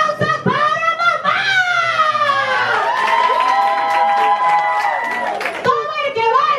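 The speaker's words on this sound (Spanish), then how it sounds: "¡Un aplauso para mamá!" Guests at a toddler's second birthday party clap and cheer for the mom, a loud crowd of adults and children whooping and shouting, with excited chatter and high-pitched kids' voices throughout.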